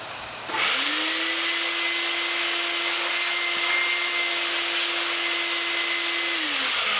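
A power tool starts a thread in a blind hole while building a BBQ support, first a low background hum, then a close whirring motor spinning up to a steady pitch, holding for several seconds before winding down.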